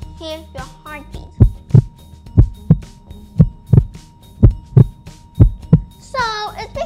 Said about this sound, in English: You always hear your heartbeat.